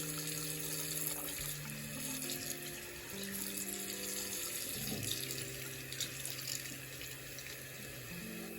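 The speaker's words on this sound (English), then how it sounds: "I'm gonna wet the hair" Tap water runs steadily and continuously while a doll's long hair is wetted during a Monster High Frankie Stein reroot, with a low tonal background layer underneath the constant splashing flow.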